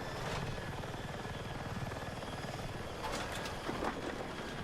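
Helicopter in a combat video game flying with a steady, loud rotor chop and engine drone, continuous throughout, with a brief burst of extra noise near the end.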